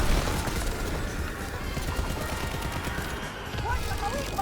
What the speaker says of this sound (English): start shooting the Panzer Mortar